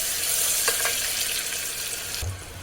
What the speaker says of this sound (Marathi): कांदा आपल्याला भाजून घ्यायचा पण कांदा भाजताना एकदम गोल्डन ब्राऊन करायचा नाही थोडासा लाईट भाजून घ्यायचा